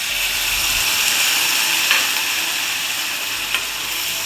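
Lemon juice hits a hot Andhra-style tempering in a pan, giving a steady, bright sizzle with a couple of sharp crackles, close and alone without speech.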